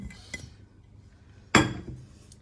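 A utensil stirs a börek filling of crumbled egg and strained white cheese in a bowl, making faint scraping sounds. One sharp clink against the bowl stands out partway through.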